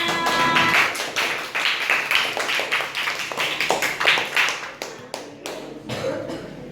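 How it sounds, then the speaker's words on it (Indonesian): A burst of clapping from a sixth-grade class in a classroom, uneven and fairly close, fading out toward the end with a few scattered claps. "beri tepuk tangan untuk yang sudah mengisi refleksinya"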